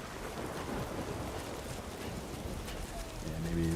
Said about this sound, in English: Maybe let's get out of the rain